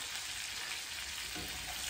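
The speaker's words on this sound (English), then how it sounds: "the cheese is in between the strips, right? And it's just frying up." A strip cheese quesadilla fries in a pan with a soft, steady sizzle and fine crackling that stays even and fairly quiet throughout, with no voices.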